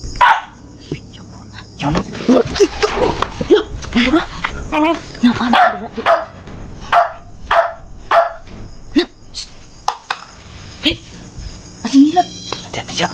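A dog barks and yips repeatedly in short, irregular bursts, loud and close, mixed with people talking throughout.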